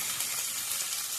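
Spices such as salt, chili and turmeric fry in hot oil in a pan, giving a dense, even sizzle up close that stops abruptly.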